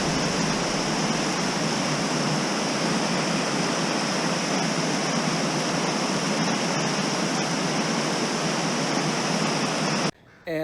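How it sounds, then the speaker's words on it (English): A waterfall pounding at full spring snowmelt force along the North Cascades, a loud, steady broadband roar that fills the scene without pause, cutting off abruptly near the end. "this would be one heck of a waterfall to stare at face on, especially right now in full spring snowmelt force."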